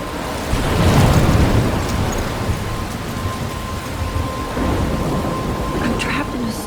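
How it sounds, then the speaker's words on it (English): Thunderstorm in the video game Life is Strange: a steady wash of heavy rain with a deep rolling rumble of thunder swelling early on, continuing as a constant roar throughout. "I'm trapped in a storm?"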